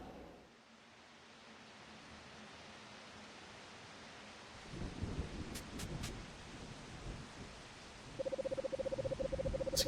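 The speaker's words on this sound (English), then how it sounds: "It's a good thing I made it back from work before the rain picked up. Coming down pretty heavily now." Heavy rain pours in a video game scene from Anodyne 2, a steady soft hiss that swells and grows rougher midway, with low rumbling like thunder, a few brief high electronic beeps and a pulsing tone near the end.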